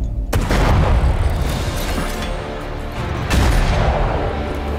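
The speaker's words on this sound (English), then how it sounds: "Like a double barrel grenade launcher." Heavy booming blasts from a double-barrel grenade launcher in a League of Legends cinematic: two big explosive bursts, each followed by a rumbling, crackling tail, loud and close.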